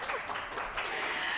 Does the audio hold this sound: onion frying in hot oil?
no